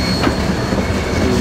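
Freight train pushing a cut of railroad cars in reverse through a switch, with steady rolling rumble, wheel clatter and faint squeal, close and continuous throughout, no voices.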